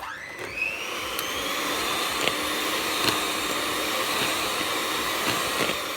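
An electric mixer whisks baking ingredients into crumbs in a bowl, a steady loud whirring drone that rises in pitch as it spins up and then holds, with faint clicks of beaters against the bowl.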